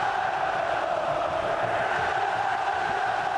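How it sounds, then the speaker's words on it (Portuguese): Santos football supporters fill Morumbi stadium during the 2012 Campeonato Paulista final against Guarani, a steady, dense crowd roar that holds level throughout with no clear breaks. "E a torcida do Santos vai ter 90 minutos para festejar, para gritar, para cantar no Morumbi"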